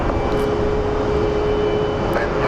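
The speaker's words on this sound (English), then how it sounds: "Alrighty, Mr. 737. Come on, dude." A Boeing 737 jet airliner roaring steadily at Phoenix Sky Harbor airport, a constant loud engine rumble with a sustained whine over it.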